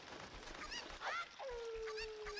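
A chicken in The Legend of Zelda: Ocarina of Time gives short squawks and then a longer drawn-out cry, quiet and set against faint game background sound.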